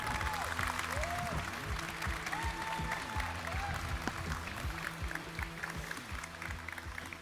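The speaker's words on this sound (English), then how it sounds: "please give a warm round of applause to my 3 panelists" Audience clapping across the whole stretch at a Magic: The Gathering convention panel in Amsterdam, mixed with background music with a steady beat and a few tonal sweeps.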